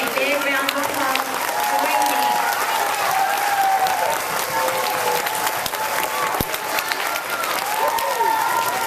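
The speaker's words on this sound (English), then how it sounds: "Boys and girls, please give them a big round of applause." Continuous applause from a school audience of children and adults, thick and even throughout, with some voices and cheering murmuring beneath the clapping.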